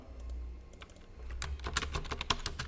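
Code being typed on a computer keyboard, a quiet, close run of irregular key clicks that quickens and grows slightly busier toward the end.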